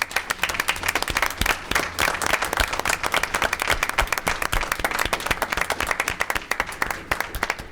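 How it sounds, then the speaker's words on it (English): A crowd at a school board meeting applauds steadily, dense clapping from many hands filling the space without a break. "I want everyone to congratulate them through applause on their accomplishments"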